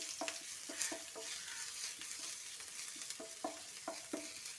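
Ginger and garlic sauté in hot oil with a faint, steady sizzle, punctuated by a run of light rhythmic spatula clicks and scrapes against the pan; quiet and close, with no voices.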